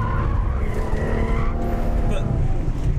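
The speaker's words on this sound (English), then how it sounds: "When it starts to slide," Ferrari F12 Berlinetta sliding on a race track, its engine roaring loudly and steadily with tires scrubbing and skidding underneath for the whole stretch.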